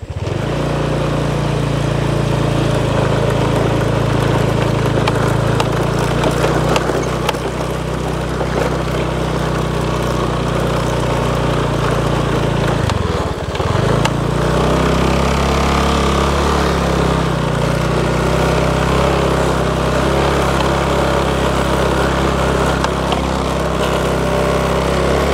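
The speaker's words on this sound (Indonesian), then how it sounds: "motornya ngadat Kang Mas. Nggak mampu." A motorcycle engine labours on a narrow village footpath, droning loud and steady near the microphone with a low rumbling note, dipping sharply midway before revving back up and straining on, with no voices over it.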